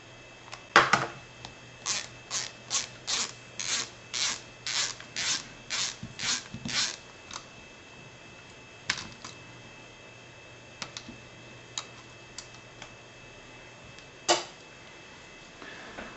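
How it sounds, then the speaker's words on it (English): Screws are backed out of a Rochester Quadrajet carburetor, heard as a close, rapid series of short raspy ratcheting bursts, then a few scattered clicks and a louder final scrape. "let me go ahead and get all these screws out, and then we'll proceed with taking it apart"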